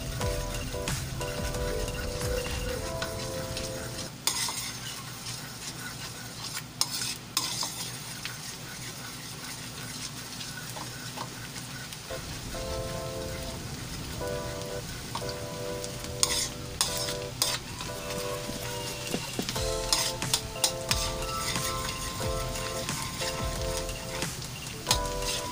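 Garlic sizzles in melting butter while being stirred in a pan, a continuous frying hiss broken by repeated scraping and clinking strokes, with a steady hum in the background and no talking.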